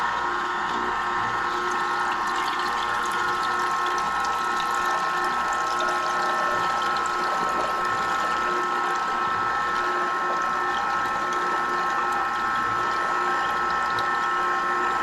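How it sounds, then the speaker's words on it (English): A juicer grinds and presses produce with a loud, steady mechanical whir and rattling drone, continuous and close throughout, with no talking. "As you can see, the juicer reaches maximum, so I will just release the juice."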